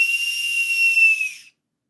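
A whistle blown in one loud, steady, high-pitched blast lasting about a second and a half, then cut off into silence.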